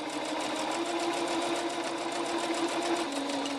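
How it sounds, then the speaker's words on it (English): A sewing machine runs steadily and loudly while back stitching a tote bag strap, its needle drive producing a fast, even rhythmic whir close up with no pauses. "and then I'm going to back stitch on the other side."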